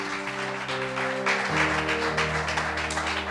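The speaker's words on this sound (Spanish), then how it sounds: "Denle un aplauso al Señor." A church congregation claps and applauds during a sermon, a steady broad wash of clapping over sustained organ or keyboard chords, with no voices over it.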